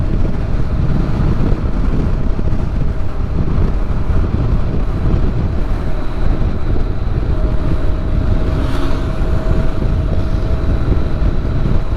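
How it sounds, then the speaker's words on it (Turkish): Constant roaring wind rushes past the microphone while riding a Honda NC750X DCT motorcycle, loud and unbroken, with a faint engine drone and a brief tone underneath. "rüzgarlı bir hava."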